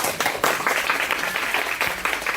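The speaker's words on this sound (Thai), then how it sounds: "ปรบมือดังๆให้หน่อยครับ" An audience at a financial-planning talk claps for a team, a moderately loud, continuous patter of many hands with slight surges and uneven individual claps, and no speech over it.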